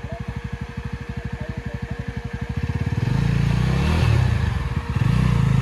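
A Yezdi Adventure motorcycle climbs a tough off-road trail in Idukki. A rapid, even engine thump at low revs swells into a loud, sustained rev as the bike pushes up the slope.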